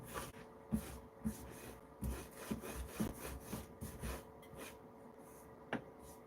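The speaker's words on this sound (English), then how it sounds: "just rub it down a little bit." Scratchy hand rubbing over a heat transfer print on a shirt, uneven strokes with soft thumps, close and quiet.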